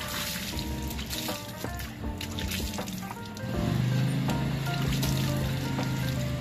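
Water sprayed to rinse iron decontaminant off rusty drum brake parts of a Mitsubishi Adventure, a steady trickling, splashing wash that swells louder and fuller partway through, with no talk.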